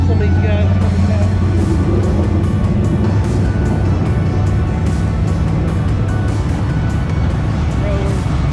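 Race cars, including Brian Shirley's 3S car, roar around the dirt track during open practice at the Wild West Shootout, a loud continuous engine drone with rising and fading passes throughout.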